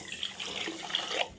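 Water poured into a vessel to make sugar syrup, a steady close splashing trickle with bright gurgling that runs through the whole moment, without speech.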